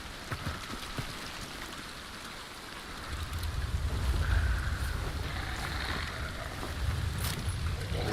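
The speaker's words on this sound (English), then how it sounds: "I haven't had a match this rainy in a long ass time." Steady rain falling throughout a rainy multiplayer match in a survival shooter game, a constant hiss of drops that thickens and grows louder in the second half, with no talk over it.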